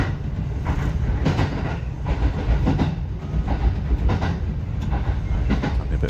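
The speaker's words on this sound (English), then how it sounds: "like the clickety-clack of the wheels and the rails" A passenger train runs along a single track behind houses, with a steady low rumble and a regular clickety-clack of wheels over rail joints, heard close from inside the carriage.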